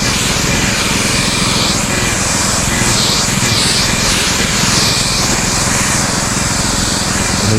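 Two motorized crop sprayers run together in a field, producing a loud, continuous, close engine drone with no breaks.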